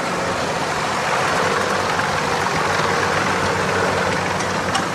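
A tractor engine runs steadily with a low, rough chugging drone as someone drives it away, close and continuous throughout.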